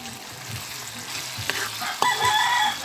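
Food sautéing in a pan, cooked with UFC Sweet Anghang chili sauce: a steady, moderately loud sizzle with a few sharp stirring scrapes and clicks near the end.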